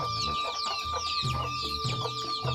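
Chickens clucking nearby in a poultry shed where young chicks are kept, a busy overlapping chorus of repeated clucks and chirps over a steady tonal hum.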